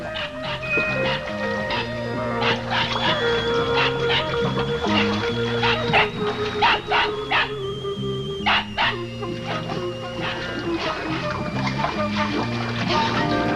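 A dog in the old dinosaur film Legend of the Dinosaur barks, yips and whimpers repeatedly in short bursts, mixed with a dense, busy film soundtrack throughout.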